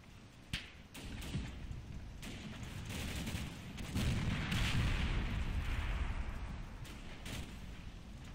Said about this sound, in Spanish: Estos siguen pegando disparos.